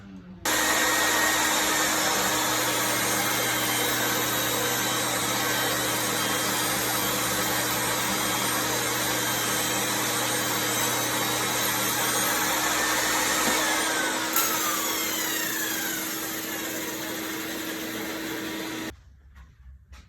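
A table saw rips a pine 2x4 lengthwise, a loud, steady whine that holds for the length of the cut, changes slightly near the end, then stops abruptly.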